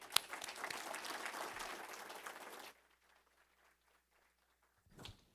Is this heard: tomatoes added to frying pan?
no